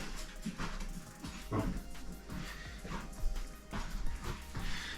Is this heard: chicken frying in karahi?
no